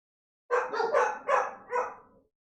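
Dogs indoors at home let out a quick run of about five sharp barks in roughly two seconds, close and fairly loud, then fall silent.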